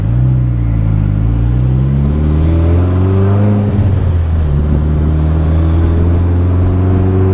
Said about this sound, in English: get it to second gear at 35 and hit it